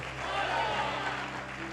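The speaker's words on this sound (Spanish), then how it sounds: "Dale un aplauso fuerte a Dios y a su nombre." Church congregation clapping loudly to God during an evangelist's sermon, a steady dense wash of applause filling the hall, with voices mixed in.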